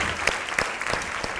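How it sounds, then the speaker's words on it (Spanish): An audience at a school cultural event applauds the teachers, a dense burst of clapping from a crowd with a few sharper claps standing out. "¡Fuerte el aplauso para los profesores y profesoras!"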